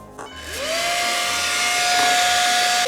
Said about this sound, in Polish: Jak prawdziwa suszarka!